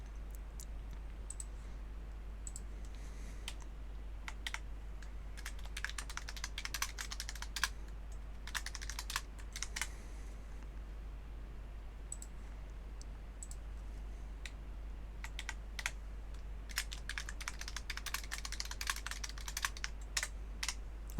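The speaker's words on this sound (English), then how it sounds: "I was on a roll with my typing just now" Rapid typing on a computer keyboard during an OpenTTD gaming session, bursts of crisp close key clicks with brief pauses between runs, no talking.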